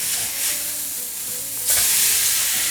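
Food sizzling loudly in a hot frying pan right after being turned over, a steady close hiss that swells briefly louder near the end, with no voices.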